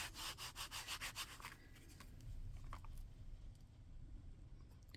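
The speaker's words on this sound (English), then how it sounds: "give that a stamp and rub it with my stamp press." A stamp press rubs back and forth over a freshly stamped card, giving quick rhythmic scrubbing strokes at first, then softer, scattered scraping and light taps, close and fairly quiet.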